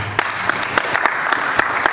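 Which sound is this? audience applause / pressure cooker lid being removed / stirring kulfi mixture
audience applause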